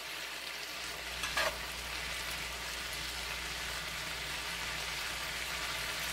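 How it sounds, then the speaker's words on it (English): Cabbage fries in a pan with a steady, even sizzle that stays close and moderately quiet, broken once by a short clatter near the start. "You can fry it down even more."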